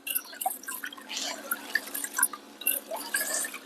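Rice and toor dal being washed in water, with close, irregular dripping, splashing and trickling of liquid in a container, fairly quiet and steady.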